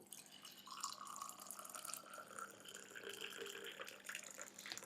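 Hot water, just boiled and bubbling, being poured into a glass, a steady trickling and dripping stream running continuously and fairly close, with no voices over it.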